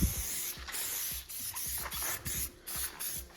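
Spray product misted onto a worn throw-out bearing sleeve from a 2008 Subaru Outback, a series of short hissing spray bursts with brief gaps between them, close and fairly soft, with light handling knocks underneath.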